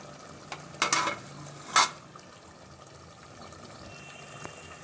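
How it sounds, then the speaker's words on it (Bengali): Layer chicken meat with spices is stir-fried slowly in a pan: a low, steady sizzle with two bursts of scraping and clattering early on, then quieter frying with no talking. "এভাবে আমি আস্তে আস্তে মাংসটা ভালোভাবে কষিয়ে নিব।"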